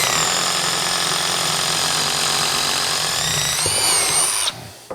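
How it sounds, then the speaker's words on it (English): A Milwaukee M12 Surge impact driver with a 9/16 impact socket runs continuously and loudly, driving a fastener while building a wooden sawbuck, its whirring rattle rising slightly before cutting off abruptly near the end. "I'm using the Milwaukee Surge here again with the 9/16 impact socket"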